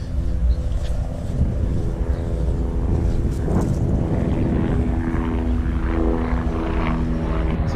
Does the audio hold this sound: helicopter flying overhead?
yes